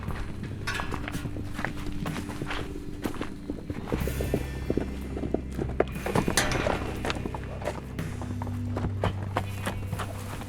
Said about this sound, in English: I hear the galloping.